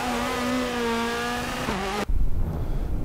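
A rally car in WRC 4 drives with a steady, whining engine note that rises in pitch, then cuts to rough, rumbling road and gravel noise near the end.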